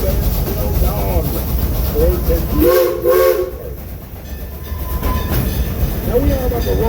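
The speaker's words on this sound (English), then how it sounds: "Now we are about to roll through one more railroad crossing." A train rolls toward a railroad crossing in the Ozarks, its loud rumble and clatter steady throughout, with a brief whistle-like tone midway and a voice talking over it at times.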